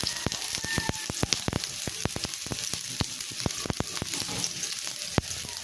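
Garlic and onion sauté together in hot oil for a dense, loud, continuous sizzle, with sharp crackles and spatter pops at irregular intervals close to the pan.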